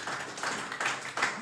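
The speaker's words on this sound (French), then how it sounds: "on peut les applaudir bien fort encore une fois" An audience at a social centre podcast event applauds a group, giving a brief burst of clapping that swells in a few rhythmic pulses.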